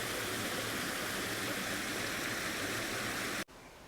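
Clean stream water flowing down from the mountains through wild forest, a steady close rushing wash that continues unbroken until it cuts off abruptly just before the end.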